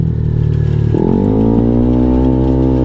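A Yamaha Aerox 215cc scooter engine runs close by, idling with a low steady hum before revving up near the one-second mark into a higher, sustained, throaty drone.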